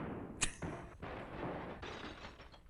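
Gunshots from the climax of the old horror film The Vampire Bat: a sharp crack followed by a second shot in quick succession, then fainter dull reports, all in a distant, thin-sounding soundtrack.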